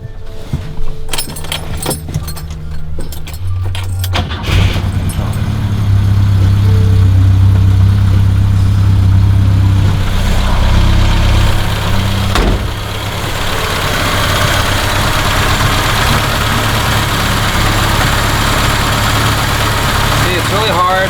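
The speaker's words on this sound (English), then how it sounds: "All right, I'm about to start the car." A BMW 2002 fitted with a Weber 32/36 carburetor cranks briefly, then catches and settles into a steady, loud idle with a low rumble. Close by, continuous and alone, with no speech.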